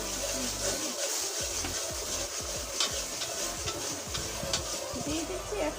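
Chicken sautéed with coriander-cumin powder and chili powder for a white chicken dish, with a steady soft sizzle and repeated scraping and stirring in the pan, close by.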